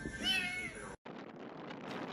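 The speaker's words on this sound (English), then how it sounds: "Little kitty cat." A small cat gives one clear, fairly faint meow outdoors on a windy day, followed by a brief silence and then steady rustling wind noise.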